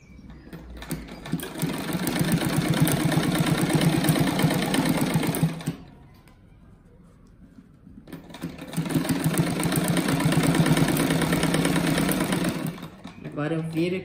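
A sewing machine stitches a child's patchwork rug in two steady, fast runs separated by a short pause. Its close mechanical whir is heard with a voice talking nearby.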